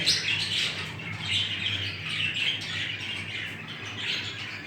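Society finches, also called Japanese finches, chirp and twitter continuously in a breeding room, a dense, steady chorus of many small birds close by with no talk.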